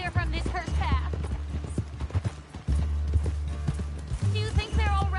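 Horse hooves clip-clop at a steady riding pace in Red Dead Redemption 2, close and clear, with a brief whinny, while characters talk over the hoofbeats.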